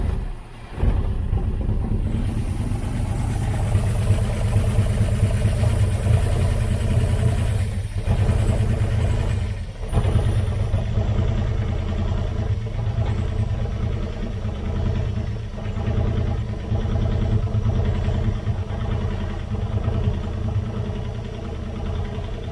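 The engine of a 1978 Dodge Aspen R/T, its carburetor float full of dirt, idles with a steady low rumble. It falters and briefly sags twice, near eight and ten seconds, then picks back up, close and continuous with no talk.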